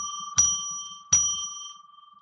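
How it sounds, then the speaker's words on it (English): A ceremonial bell rung to open a sacred space for readings gives two clear, bright strikes, each with a long, sustained ring that fades slowly, heard alone in a quiet room. "I'll ring a bell 3 times to declare the sacred space for readings"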